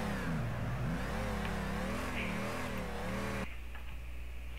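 A 1969 Ford Mustang with a crate engine revs hard while drifting, a loud, continuous engine roar rising and falling in pitch, then dropping to a steadier lower drone near the end.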